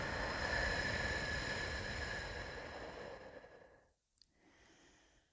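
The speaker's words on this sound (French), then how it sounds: "et vous soufflez doucement par la bouche." A long, slow breath out through the mouth is heard alone and close during a guided hypnosis relaxation, starting full and airy, tapering off and then fading, followed by a faint short breath.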